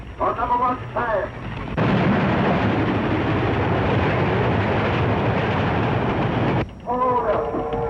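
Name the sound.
train approaching on the railway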